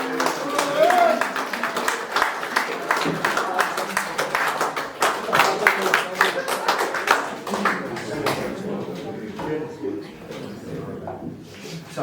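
An audience at an awards presentation claps and cheers loudly for a player named Louis, a dense burst of applause that fades toward the end, with a voice speaking over it.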